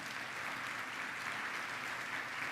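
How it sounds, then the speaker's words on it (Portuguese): A congregation at a Brazilian family worship service claps in steady, continuous applause, moderately distant and even in level, with no speech over it. "Você pode dar um aplauso pelo amor de Deus?"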